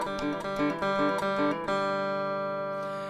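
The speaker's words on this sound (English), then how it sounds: "Our first drill is the ascending hammer-on triplet." Lead guitar playing a fast ascending hammer-on triplet run, several quick repeated note groups that settle into a ringing sustained chord, clear and alone.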